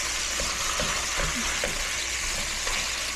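Eggs, bacon, chicken gizzards, hearts and beef sizzle steadily in a hot pan, a continuous close frying hiss with occasional soft stirring clicks and scrapes throughout.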